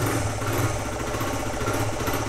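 A newly fitted used motorcycle engine bought online runs steadily, a continuous close, buzzing mid-pitched drone with an even pulse and no voices over it.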